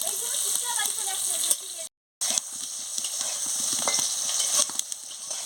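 Pointed gourd frying in hot oil gives a steady, bright sizzle with scattered stirring clicks and scrapes, a brief drop to silence partway through, and faint background voice.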